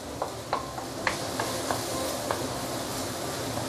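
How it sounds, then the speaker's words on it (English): Chili paste sautés in oil in a pan under a soft constant sizzle, with a spatula scraping and tapping in light, irregular strokes, close and fairly quiet. "So you have to keep on sauteing and stirring like this."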